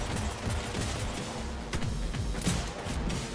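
Rapid bursts of gunfire during a driving sequence in Cyberpunk 2077, dense and continuous over engine rumble, with a couple of louder thuds near the end.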